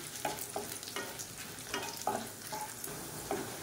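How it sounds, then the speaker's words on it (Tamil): Tamarind and about fifteen small dried red chillies fry in oil for millet dosa batter, giving a soft steady sizzle broken by repeated scraping stir strokes at close range, with no voices. "சின்ன நெல்லிக்காய் சைஸ்க்கு புளி அதையும் சேர்த்து எண்ணெயில் போட்டு வறுத்துக்கலாம்"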